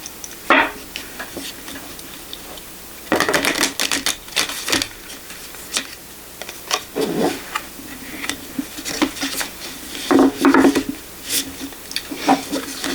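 Cards from a Moonology oracle deck being shuffled and drawn, giving a run of crisp papery flicks and slaps in uneven bursts, close and fairly quiet with no talking.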